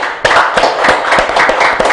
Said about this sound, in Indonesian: Berikan tepuk tangan yang luar biasa untuk Camat Talo